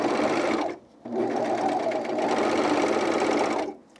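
A serger overlocker stitches fabric for underwear, its fast mechanical whir running in close bursts with a brief pause near the start and the machine stopping at the end.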